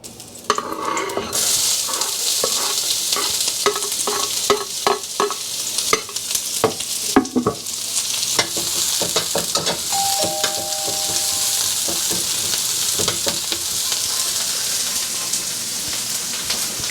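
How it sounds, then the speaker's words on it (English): Yellow onions hit hot oil for restaurant-style salted fish fried rice, a loud continuous sizzle with sharp clanks and scrapes of a spatula in the first half, then a steady hiss with a brief electronic beep partway through. "I'm going to put the yellow onions"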